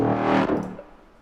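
A short pitched-up growl bass synth stab with distortion and a very short reverb tail, loud at first and then quickly fading away.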